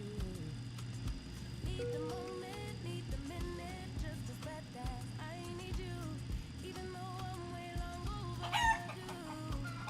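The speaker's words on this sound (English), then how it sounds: "You're pretty quick on those chicken sounds." Chicken sounds during a live flight simulator session: repeated clucking and a crowing call near the end, set over a constant low engine-like drone that runs throughout.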